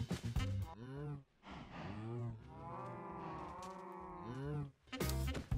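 Many cows lowing in a Minecraft town, repeated long drawn-out moos from several animals one after another, loud and close, with no talk.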